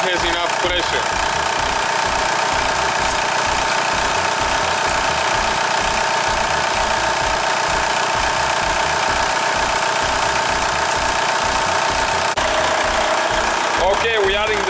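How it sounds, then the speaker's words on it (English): A VW Beetle engine idles loud and steady with a constant drone as the A/C system is recharged, the tone shifting slightly near the end as the compressor kicks in. "we'll be able to hear the compressor kicking in when it has enough pressure"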